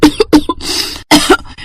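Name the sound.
woman coughing at night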